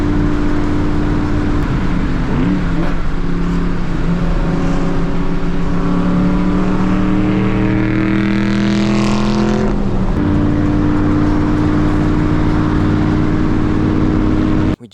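A Ford Cobra with a new clutch and a big header leak, its engine loudly revving up through the gears from inside the car, pitch climbing then dropping at each shift, droning steadily throughout.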